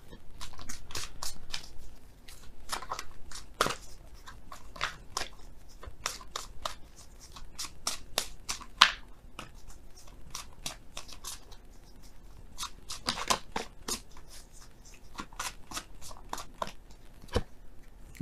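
Oracle cards being shuffled, a quiet, close run of crisp card snaps and riffles coming in irregular bursts with no talk.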